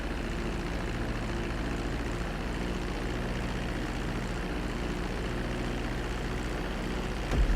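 Airplane rolling along a runway after landing in the video game GTA, a steady, loud engine drone with low propeller-like hum that holds evenly throughout, ending with a brief thump.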